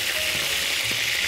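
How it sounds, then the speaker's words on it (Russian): Lamb frying in a small pan, a steady broadband sizzle with faint clicks and scrapes, close and continuous with no talk. "Продолжаем обжаривать."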